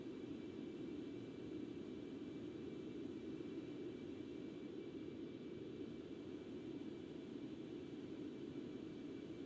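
Concorde engines throttling back during a climb at Mach 1.5 in X-Plane 11, a steady broadband jet roar that stays constant and even for the whole stretch, with no talk over it.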